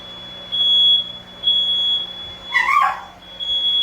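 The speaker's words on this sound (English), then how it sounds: "their smoke alarm is going off" A smoke alarm beeps in repeated high-pitched tones while coffee beans are being roasted, a loud chirping pattern with a brief squeal or yelp breaking in midway.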